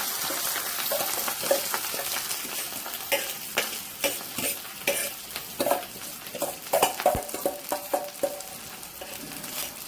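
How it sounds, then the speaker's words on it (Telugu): Cooked rice tossed and stirred in a hot pan with cumin seeds, steady sizzling under repeated scraping strokes of a spoon against the metal, close and fairly loud, the scrapes growing more rhythmic toward the end. "దాంట్లోకి మనము ముందుగా కుక్ చేసి పెట్టుకున్నటువంటి రైస్ని మనం దీంట్లో వేసేసుకుందాం."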